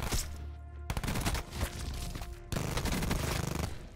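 Rapid automatic fire from the Switchblade X9 submachine gun with the rapid fire attachment in Black Ops 4, loud dense bursts of shots with a brief break near one second and another around two and a half seconds.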